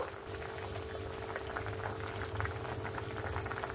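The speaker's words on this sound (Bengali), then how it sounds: "ঝোলটা এখানে আমার ফুটে উঠেছে" Curry gravy for a sea fish (pomfret-style) jhal bubbling at a steady boil in a pan, a dense, continuous low burble with soft popping, close and moderately quiet.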